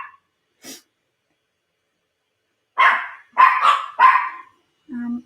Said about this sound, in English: I am so sorry about the barking.